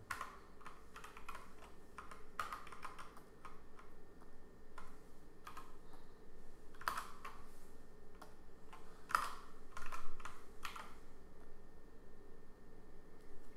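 Computer keyboard keys tapped in short bursts and single clicks while working in Photoshop, close and fairly quiet over a steady background hiss, with a few sharper, louder keystrokes standing out.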